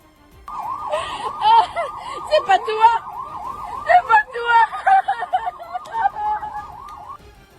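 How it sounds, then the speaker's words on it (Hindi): A wailing air-raid warning siren in Israel during Iranian missile attacks cycles up and down repeatedly, loud and steady, with a second siren tone overlapping for several seconds before it stops. "लगातार सायरन बजाकर लोगों को हमलों से सावधान रहने की चेतावनी दी गई"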